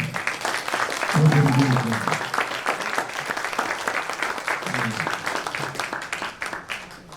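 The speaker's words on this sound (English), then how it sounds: "And let's have another round of applause for them." Audience applause at a college jazz band's spring concert: a thick, continuous patter of clapping with a few voices calling out over it, fading slightly toward the close.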